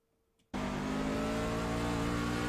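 Racing truck engine on board the 83 truck in a sim racing game at Martinsville, a steady loud drone that cuts in abruptly after a short quiet start and holds at high revs.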